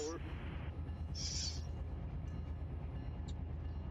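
A simulated freight train in the Run8 train simulator rumbles steadily with a constant low drone throughout, marked by brief high squeals or horn-like tones near the start, with no talk.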